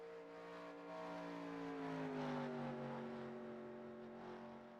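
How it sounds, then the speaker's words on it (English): Race cars driving on a broadcast, a steady droning engine note with shifting pitch as the cars pass and rev, heard fairly faint and continuous without talk. "these cars sound so awesome"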